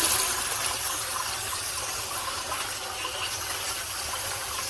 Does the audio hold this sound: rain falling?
no